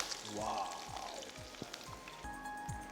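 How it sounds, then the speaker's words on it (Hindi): Chopped onions fry in hot oil for a dal tadka, a quiet, close sizzle with faint voice-like sounds mixed in. "ये हमारा अनियन फ्राई हो रहा है।"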